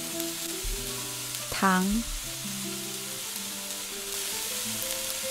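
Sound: stir-frying lamb with garlic sprouts in a wok

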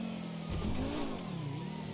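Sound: car engine approaching in GTA 5 video game

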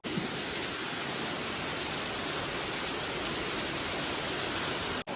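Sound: heavy rain

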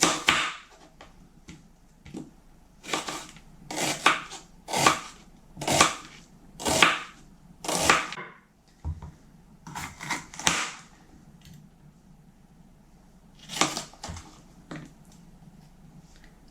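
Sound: knife slicing onion into half-rings

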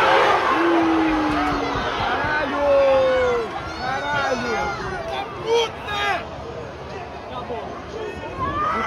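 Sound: Fluminense football fans cheering in stadium

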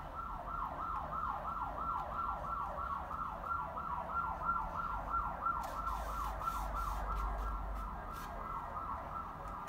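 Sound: ambulance siren passing

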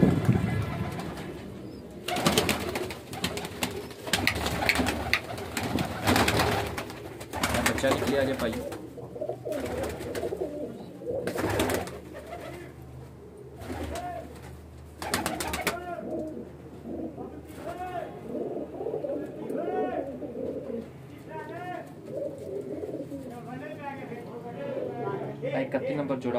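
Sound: breeding pigeons cooing

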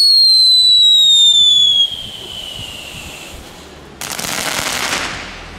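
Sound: fireworks going off

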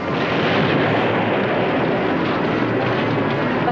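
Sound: special effects explosion

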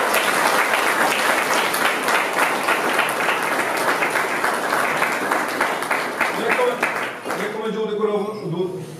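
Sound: applause at gym club Christmas party

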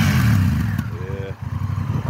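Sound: motorcycle engine revving

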